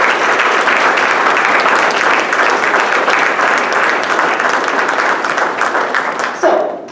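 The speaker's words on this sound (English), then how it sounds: "let's give them a big round of applause" An audience applauds a middle school student orchestra after a spring concert: loud, sustained, dense clapping from a large crowd that tapers off toward the end, with a brief voice at the close.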